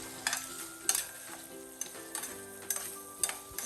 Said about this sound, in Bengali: থেমে থেমে আমি এভাবে করে নাড়াচাড়া দিব।